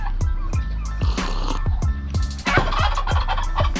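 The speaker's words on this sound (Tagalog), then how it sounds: "ito naman yung sinasabi nilang pabo na masarap ulamin" A turkey, a fowl valued for roast meat, gobbles repeatedly and loudly at close range, with bursts of rapid calls from several birds overlapping in a busy farmyard.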